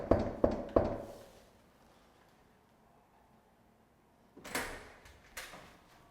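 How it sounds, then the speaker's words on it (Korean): Three quick knocks land on an apartment door in a residential building, followed by a pause and two more softer raps; close and sharp, with no talking. "먼저 문을 두드립니다."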